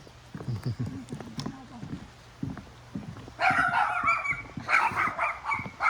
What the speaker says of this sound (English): Time to get barked at.